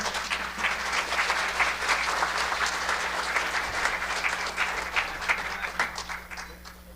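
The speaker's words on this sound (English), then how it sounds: "Let's give him a nice round of applause." Sustained applause from an audience at a fiddling closing ceremony, a steady wash of many hands clapping at even volume throughout, with a low hum underneath.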